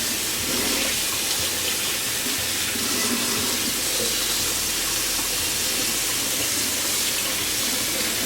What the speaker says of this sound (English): then you turn on the water and all the colors start flowing out